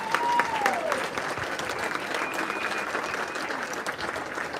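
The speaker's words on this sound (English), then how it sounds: "All right, round of applause." Sustained applause from a crowd at a firefighter recruit college graduation ceremony, steady dense clapping throughout with a faint whistle near the start.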